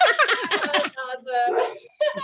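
A group of people howls together at the moon during a full moon gathering, a loud chorus of wavering, drawn-out voices imitating wolves in several overlapping bursts.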